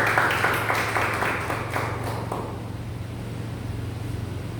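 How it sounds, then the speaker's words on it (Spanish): A church congregation applauds together, rapid clapping that fades out within a couple of seconds, leaving a low steady hum of the room. "Un fuerte aplauso más al Señor,"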